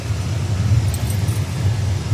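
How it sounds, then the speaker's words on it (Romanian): A truck passing on a rural mountain road in the Carpathians, a steady low rumbling engine drone that stays loud and close for the whole moment with no talk. "trece un camion ceva"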